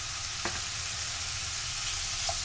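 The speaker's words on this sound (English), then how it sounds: "I'm going to add the garlic butter" Garlic butter sizzles in a frying pan for pasta bake, giving a steady moderate hiss with a faint clink early on.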